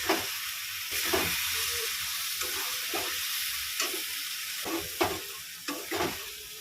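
Water spinach frying with peanuts sizzles loudly and continuously, broken by repeated scraping stirs of a spatula at irregular intervals, close by and without speech.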